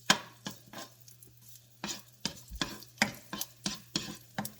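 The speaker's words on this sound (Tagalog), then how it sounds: "Gisa-gisa lang ng bawang" Garlic sautéing in a pan, heard as a series of distinct scraping stirs and short sizzling bursts at an uneven rhythm, close and fairly quiet.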